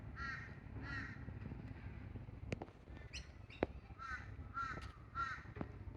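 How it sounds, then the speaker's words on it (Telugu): Crows caw in a park in Australia, giving several separate harsh calls spread across the scene. They sound fairly distant and faint against quiet outdoor ambience, with a couple of brief clicks in between. "చాలా చక్కగా మన భాషలోనే అరుస్తున్నాయి కూడా కాకా అని."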